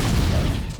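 Rapid crackling bursts of small explosions and booming debris from a spaceship breaking apart in a Clone Wars crash, a dense, loud, continuous barrage with no voices.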